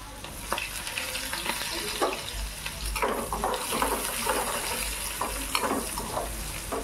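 Chopped onion sizzles steadily in a hot pan with oil, green chili, curry leaves and garlic for a bottle gourd bhaji, with stirring scrapes and bursts of crackling throughout, close up and without talk.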